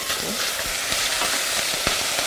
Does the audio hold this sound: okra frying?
yes